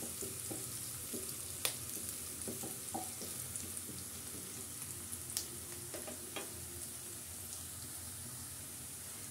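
Onions frying in a pan with spices being stirred in for a restaurant-style vegetable and prawn dish, a steady close sizzle broken by a few sharp clinks and scrapes of the spoon, no talk.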